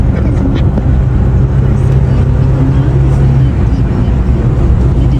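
A car travelling on a road in Terengganu, Malaysia, heard from inside the cabin as a constant low rumble of engine and tyres, steady and unbroken throughout.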